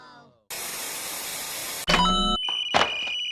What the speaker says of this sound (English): Those crazy noises are computer signals.